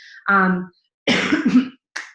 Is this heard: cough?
yes